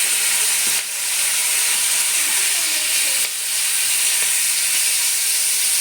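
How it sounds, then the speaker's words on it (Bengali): Prawns frying in hot mustard oil in a wok, for a village-style prawn curry, give a loud, steady, dense hiss of sizzling that runs without a break and dips briefly twice. "কড়াইতে সরষার তেলটা গরম করে নিয়েছি মাছ ভাজার তেলেই রান্নাটা করব তেলটা গরম করে নিয়েছি এখন মাছটা দিয়ে দিলাম"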